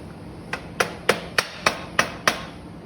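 Hammer driving a swing arm pivot bolt through the bushings of an electric motor during an XEMX conversion, seven sharp close metallic blows in a steady rhythm about a third of a second apart.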